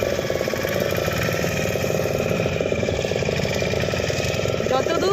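A motor boat engine drones steadily on Chilika Lake, a close, loud idling hum with a regular pulsing rhythm throughout and no talking.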